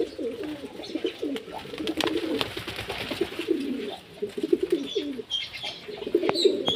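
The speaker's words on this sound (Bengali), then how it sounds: "এই যে পায়রা ডাকাডাকি করছে" A flock of pigeons cooing, with a dense, continuous layer of low, throaty, overlapping coos, close by and steady throughout.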